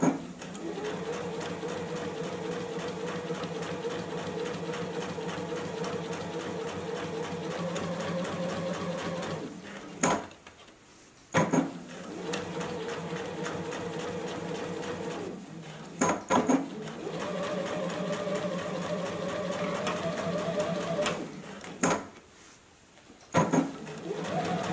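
A JUKI sewing machine stitches a seam on a rounded fabric face mask in several bursts of rapid, even needle clatter, separated by brief pauses and soft handling clicks.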